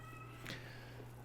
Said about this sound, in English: a freaking cat is inside my house meowing